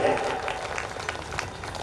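Applause at a religious satsang gathering in India, soft and fairly distant, continuing briefly for under two seconds.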